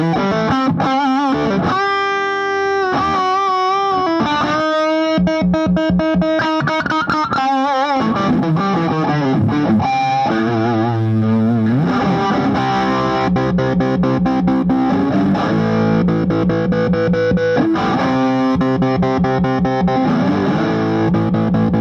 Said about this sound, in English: What happens if you crank up some distortion on it?